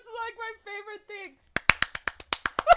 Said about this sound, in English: It's the golf clap.